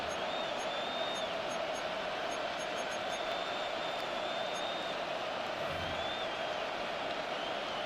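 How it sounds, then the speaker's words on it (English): Steady stadium crowd noise at a televised football game between the New York Jets and Washington, a dense, constant roar with faint whistle-like tones drifting over it throughout, no clear peaks. "The crowd making their presence felt."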